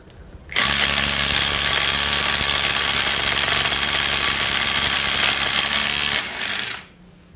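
A 12V Work WU132 impact driver loosens a bolt through a standard socket at 135 Nm. It gives one loud, continuous, rapid rattling burst of about six seconds, then winds down and stops.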